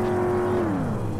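Naturally aspirated four-cylinder car engine in the My Summer Car video game, a steady droning hum at constant revs that then dips slightly in pitch as it eases off, loud and close.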